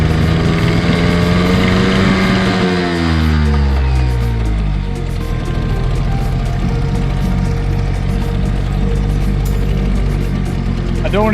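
A refuelled engine left idling and then revved, giving a loud, steady mechanical drone with pitch sweeps that rise and fall early on before settling into a constant, rough roar.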